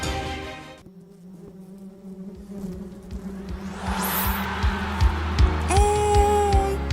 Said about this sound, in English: Feel that buzz?